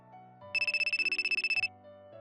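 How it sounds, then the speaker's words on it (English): A mobile phone ringtone rings in a rapid, evenly pulsed burst of bright electronic tones lasting about a second, set against soft background music. "My phone vibrated."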